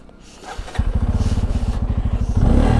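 A motorcycle engine before a ride up the Yelagiri ghat road catches after a brief crank and settles into a loud, close, rhythmic chugging idle that swells slightly at the end.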